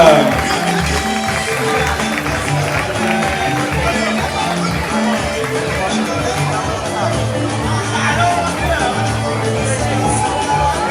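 Audience applause and crowd noise at a wax-print fashion show as a model walks the runway, a continuous roar of clapping and chatter with music underneath, fairly loud and sustained throughout.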